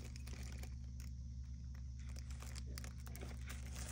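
Close, scratchy crinkling and tearing as a knife slices open a taped Temu package, irregular rustles over a low steady hum.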